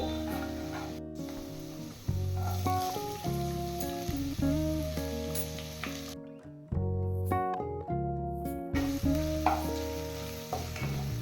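Chopped onions frying with ginger and garlic in a pan for an egg tadka, a steady sizzle under melodic background music, with no talking.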